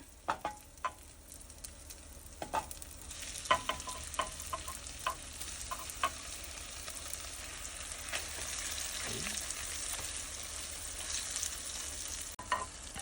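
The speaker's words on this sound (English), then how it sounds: "Now I'm going to add my beef after the oil gets hot." Beef goes into hot oil for green chile stew, and a steady sizzle of frying builds up, broken by occasional close clinks and scrapes of stirring, with no talking.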